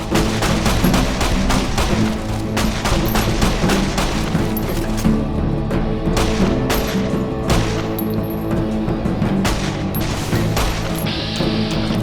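Enemies opening fire on the player in Fallout: New Vegas, a sustained loud volley of rapid gunshots, dense and overlapping, continuing steadily for around twelve seconds without talk.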